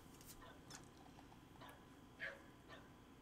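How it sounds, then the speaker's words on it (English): Dogs barking at a squirrel, a few short yips and barks scattered over a low background hiss, very faint and distant. "Okay, dogs, you can stop barking at the squirrel."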